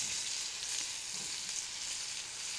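Apple pieces sizzle steadily in a hot pan alongside browning pork, a dense, continuous frying hiss that stays loud and close throughout with no voices.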